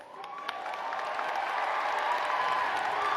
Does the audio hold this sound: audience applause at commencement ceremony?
yes